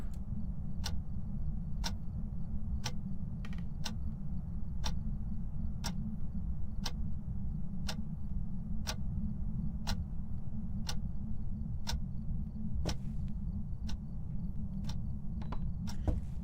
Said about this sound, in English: I do love clocks, but they are so noisy.